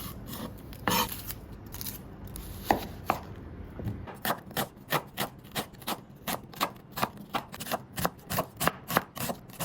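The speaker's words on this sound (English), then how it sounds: "Peeled onion and sliced it." A knife cuts through a peeled onion on a board, first a few irregular strokes, then a fast, steady run of crisp, close chopping taps, with no talking.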